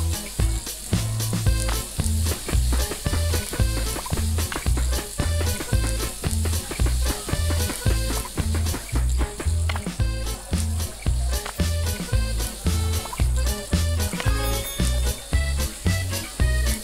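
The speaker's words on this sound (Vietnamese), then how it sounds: "Ui, cái này chiên khá là lâu." Meat sizzles while frying in a kitchen in the video game Overcooked 2, a steady hiss running beneath loud, rhythmic, bouncy game music with no talking.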